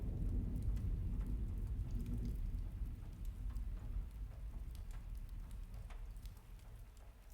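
Heavy storm rain in the video game Murder By Choice, a dense steady downpour with low thunder rumbling loudly at first and then easing back into a softer, continuous patter, with no voices.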